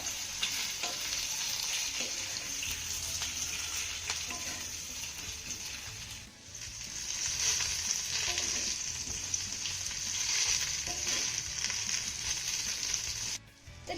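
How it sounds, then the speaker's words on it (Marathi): Cut fenugreek and jowar flour vadis shallow-frying in a little oil, a constant close sizzle with stirring scrapes and a brief dip midway before the hiss swells again, no voices. "कट केलेल्या वड्या यामध्ये घालूया आता ह्या वड्यानं आपल्याला दोन ते तीन मिनिटं चांगल्या खमंग खरपूस होईपर्यंत परतून घ्यायच्या"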